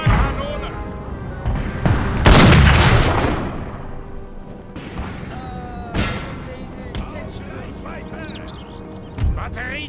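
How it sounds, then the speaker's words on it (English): Artillery firing canister shot in Napoleon: Total War, several heavy booms and cracks spaced a few seconds apart, loud and close, with rumbling battle noise between them and a voice calling out. "Right, now fire canister."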